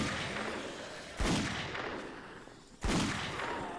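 Gunfire in the video game 7 Days to Die: two heavy, loud shots about a second and a half apart, each with a long decaying tail, over a dense background wash.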